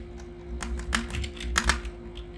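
A password typed on a computer keyboard, a short quick burst of crisp key clicks close to the microphone with a faint steady hum underneath and no talk.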